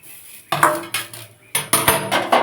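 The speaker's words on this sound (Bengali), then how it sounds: "এবার আবার কড়াটাকে আমি বসিয়ে দিলাম" A metal wok set back down on a home stove after frying onions, giving a few sharp clanks and scrapes of metal in two close bursts, with no talking.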